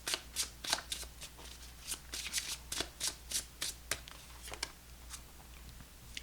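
Tarot cards being shuffled by hand, a rapid run of crisp riffling snaps and soft slaps that comes in uneven bursts, close and clear over a low steady hum.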